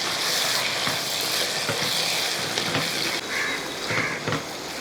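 Chicken stirred with salt and white sesame seeds in a pan gives a continuous loud sizzle, with a utensil scraping and tapping the pan at intervals.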